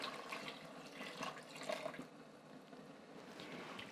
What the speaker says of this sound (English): I'm going to add a tablespoon of salt and a liter of vegetable broth